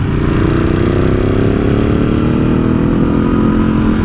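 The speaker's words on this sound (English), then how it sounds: "how the bike sounds with those pipes. It just sounds brilliant." A 2019 Ducati Scrambler 1100 runs steadily through its exhaust pipes, a loud, close, continuous engine rumble lasting a few seconds with a slight rising pitch and no talking.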